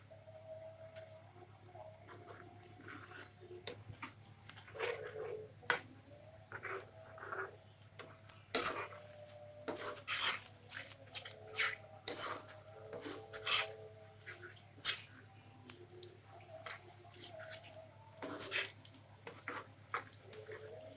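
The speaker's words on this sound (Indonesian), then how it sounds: "Ini kita aduk terus supaya cabainya tidak kering." Spatula scraping and stirring chilli sambal in a pan for fried tilapia balado with torch ginger, as scattered irregular rasps and taps over a steady low hum, no talk.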